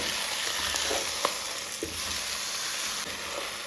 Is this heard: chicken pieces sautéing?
yes